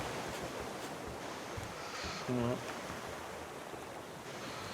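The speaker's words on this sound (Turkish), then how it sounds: "bu ne biçim bir dalgalı denizdir" Steady ocean waves in the Raft video game wash as a constant soft hiss and rumble of surf, with someone briefly speaking over it.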